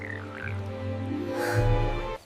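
Cartoon frog croaking in an animated fairy tale, a steady low throaty call lasting about two seconds, close and fairly loud, rising toward the end before stopping abruptly.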